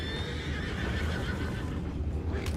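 Horses whinny and neigh over a rumbling outdoor bed in the video game Red Dead Redemption 2, loud and continuous with faint hoof clops underneath.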